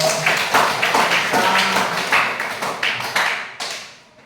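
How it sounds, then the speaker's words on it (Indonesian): Audience applause after a classroom group presentation, a few minutes of steady hand clapping from a small crowd that swells in irregular waves and then trails off. "Oke, tepuk tangan dulu."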